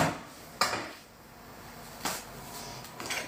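Metal pots and pans clatter in a home kitchen while getting ready to fry an egg with potato, three sharp clanks spaced apart with quiet room noise between them.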